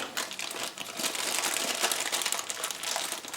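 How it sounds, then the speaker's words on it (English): A plastic packet holding a pair of toy truck wheels is crinkled and torn open, a dense, close crackling rustle running nearly unbroken for a few seconds. "Let's see if I can rip one out of the packet"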